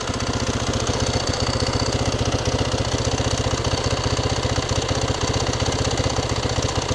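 A Maverick 4x4's engine runs steadily at idle, a loud close rhythmic chugging with constant vibration and no break.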